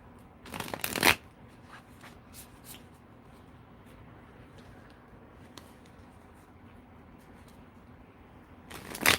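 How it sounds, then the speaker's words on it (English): Tarot cards are shuffled by hand in a brisk riffle, with a loud burst at the start and another at the end and quieter card handling and soft rustling between them. "Let me finish shuffling my cards, just cleanse them"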